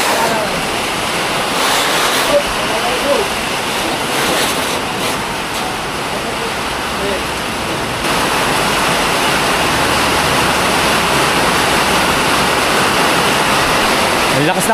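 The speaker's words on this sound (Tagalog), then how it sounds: "Ang lakas ng ulan." Heavy rain pours down steadily outdoors as a dense, continuous hiss, loud and unbroken for the whole stretch, with a brief rise in intensity partway through.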